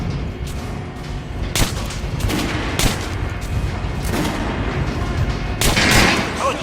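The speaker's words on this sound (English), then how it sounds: "Try shooting the center of the regular dummy's chest." Gunfire at a training dummy in the video game Metro Last Light, several loud sharp shots cracking out at irregular intervals over a dense, rumbling background din.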